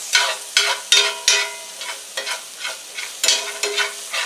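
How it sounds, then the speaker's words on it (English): Lemon zest stirred into onions frying in a pan for Northern Italian lemon chicken, a series of rhythmic scraping strokes of a spoon over a quiet sizzle, close and steady with no talking. "then we're going to stir in the lemon zest"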